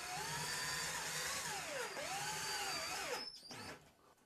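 A power drill drives small self-tapping screws through a metal pipe into a trim ring, its motor whining steadily at close range, dipping and rising in pitch as each screw bites, then spinning down and stopping near the end.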